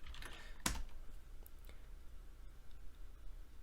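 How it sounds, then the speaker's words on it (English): A password is typed on a computer keyboard in a quiet room: one sharp, close keystroke stands out, followed by a few faint, scattered key taps. "you have to type in the password you typed in for your root account"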